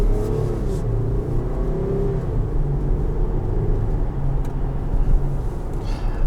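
A 2021 Jeep Grand Cherokee Trailhawk's engine drones steadily while driving in normal mode with Eco on, a continuous low rumble with road noise that holds at an even level throughout, no voices present.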